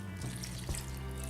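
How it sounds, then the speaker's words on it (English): Water poured steadily from a container over pebbles, a soft continuous splashing trickle like a running tap, close and fairly quiet, with one brief heavier gush partway through. "as I pour this in, I just put it right over those pebbles"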